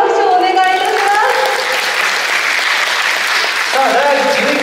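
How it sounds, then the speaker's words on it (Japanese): Audience applause for a high school calligraphy performer at an udon prefecture calligraphy performance contest, a loud dense wash of clapping running under a voice talking over it at the start and end. "皆さん、小春ちゃんにも拍手をお願いいたします。"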